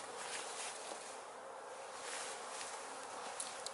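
Bees flying around a hive in warm weather, a dense, steady buzzing swarm surrounding the listener, fairly faint and unbroken throughout.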